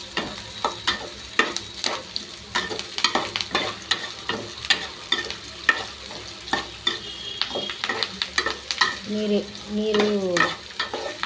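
Lentils, dried red chillies and curry leaves sizzle in hot oil while a spoon scrapes and stirs the pan in a steady, busy rhythm of close clinks. A brief voice comes in near the end.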